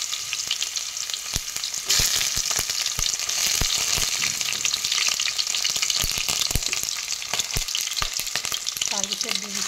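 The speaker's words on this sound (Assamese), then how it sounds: "তেলখিনিও গৰম হৈছে ইয়াতে মাংসকেইটা দি দিলোঁ" Chicken pieces for chicken curry fry in hot oil, giving a loud, continuous sizzle with sharp crackles and pops and occasional clatters of stirring, with no talk.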